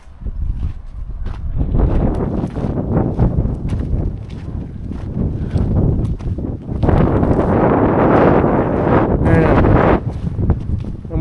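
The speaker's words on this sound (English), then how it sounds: "I'm worried about this wind." Wind blowing outdoors next to a gravel pit, gusty buffeting rumbles against the microphone that rise and fall and grow stronger in the second half, with faint rustling.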